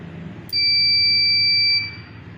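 A treadmill showing error 3 gives a single high, steady electronic beep lasting just over a second, loud and close against a low background hum.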